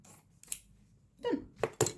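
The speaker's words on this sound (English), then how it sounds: "So I'm cutting around this because I want this bit in the middle." Scissors cutting freehand around a section of fabric for a scrappy tote bag, a few close, crisp snips in short irregular bursts with quiet gaps between, no talking.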